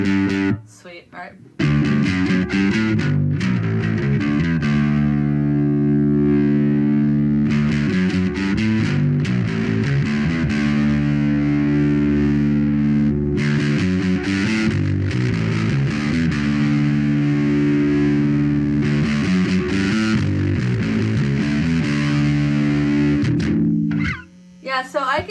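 Electric guitar played through Ground Control Arborist and Tsukuyomi boost pedals, sustained chords and riffs ringing loud and steady for most of the clip, with brief breaks near the start and end.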